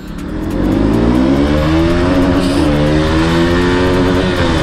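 A KTM Duke 200 motorcycle accelerates in gear on an open road, its engine roaring loud and close with a rising, steady drone and wind rush throughout.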